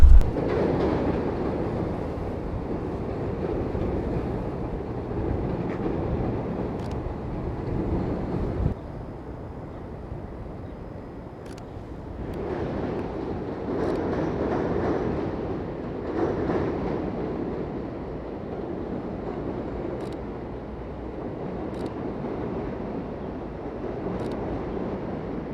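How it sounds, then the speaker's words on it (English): A train rumbles along the rails in an urban setting, a steady broad roar lasting throughout with occasional clicks and rattles, fairly close and with no voices over it. "So one of the things I like to keep an eye out for is the trains."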